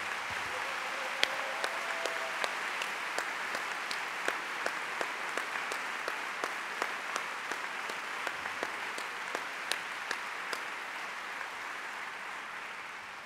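Steady applause from a theatre audience at a talk in Florence, a dense, even wash of many hands clapping that continues on its own for over thirteen seconds with sharper individual claps standing out.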